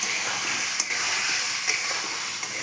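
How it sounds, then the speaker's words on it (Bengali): Potatoes and eggs are being stir-fried in hot oil for a Bengali egg-potato curry, before any water is added. A steady close sizzle and hiss carries on throughout with a few faint clicks. "আলুগুলো দিয়ে এখন আমি সুন্দরভাবে কষাবো।"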